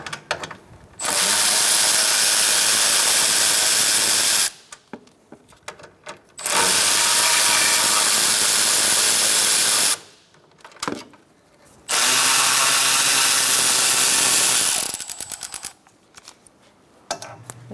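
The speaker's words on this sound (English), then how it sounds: "Using a short 10mm socket, we're going to take out these 2 bolts" A 10mm socket on a ratchet removes radiator cooling fan bolts on a 2014-2019 Kia Soul 1.6L, three long loud bursts of rapid clicking separated by short quiet gaps.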